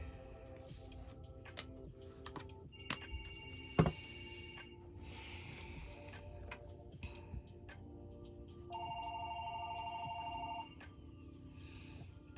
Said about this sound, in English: You can ignore my house phone.